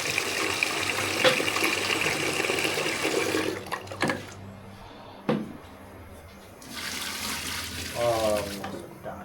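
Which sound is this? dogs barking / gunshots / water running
water running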